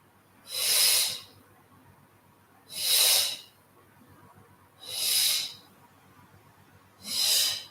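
Four strong, forceful breathy exhales come during a flow yoga session, evenly spaced about two seconds apart, each a loud airy rush with quiet pauses between.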